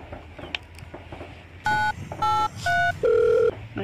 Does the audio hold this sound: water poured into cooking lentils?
no